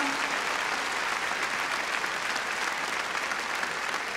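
Concert audience applauding at a traditional Romanian folk music concert in a large hall, a dense, steady wash of clapping from a big crowd that holds an even loudness throughout.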